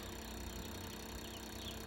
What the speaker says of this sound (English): this is a pancake fan. It's an exhaust fan. It's exhausting a bunch of air.